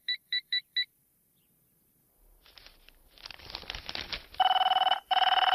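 Electronic telephone ring: four quick bright beeps up front, then after a noisy rustling stretch a loud, sustained warbling ring begins, breaking briefly before continuing, with no voices.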